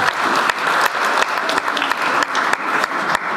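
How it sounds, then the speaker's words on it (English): A crowd at a South Sudan Independence Day gathering claps hands loudly and continuously, a close, dense patter with brief rhythmic dips, no voices heard. "Let's praise and clap our hands to ourselves."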